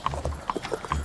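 Horse hooves clip-clop in a steady, moderately close rhythm, about five or six distinct footfalls over a second, with faint low background noise and no talk.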